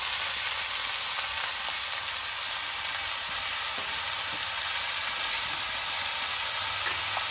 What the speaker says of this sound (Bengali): চাল কুমড়োটা দিয়ে দিয়েছি, এবার নেড়ে ছেড়ে নেব।